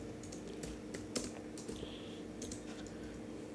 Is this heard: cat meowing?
no